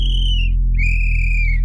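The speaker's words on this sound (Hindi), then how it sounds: "फिर से जैसे ही चौकीदार सीटी बजाता है उसके बाद यश भी बजा देता" Watchman's whistle blown twice in an animated horror story, two shrill sustained blasts, the first short and the second longer, sounding close and loud over a steady low hum.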